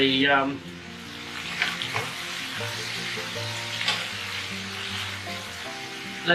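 Caprese pasta with basil leaves sizzling in a hot pan, a steady close frying crackle with a few stirring clatters and no talking.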